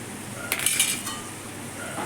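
A spoon scrapes and clinks against a pot of simmering banana flower curry, a short burst of metallic clatter near the middle with quiet kitchen noise around it.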